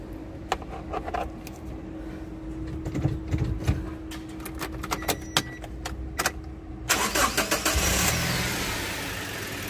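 A Toyota HiAce van fitted with a new battery cranks and catches, a whirring starter with clicks giving way to a steady idling engine that swells louder near the end, close by with no speech.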